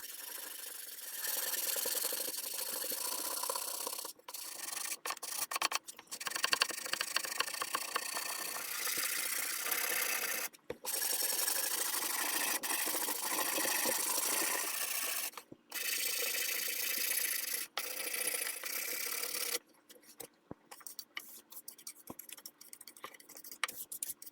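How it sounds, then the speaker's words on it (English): Hand sanding of a wooden military rifle stock with 150 grit sandpaper, a dense, continuous raspy rubbing close by, broken by a few short pauses between strokes. "I'll continue down the rest of the stock with the 150 grit sandpaper."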